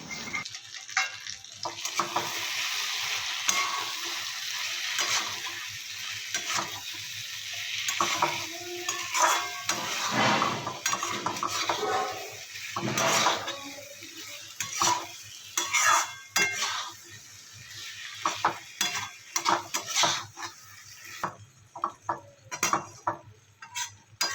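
Prawns stirred and fried in a pan for a Sambalpuri-style prawn curry: a spoon scrapes and clinks against the pan in repeated strokes over a sizzle that rises and falls, and no one speaks.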